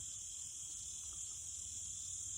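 Crickets and cicadas chirp among trees near a picnic area, a steady high-pitched insect drone holding constant throughout, faint and with no voices.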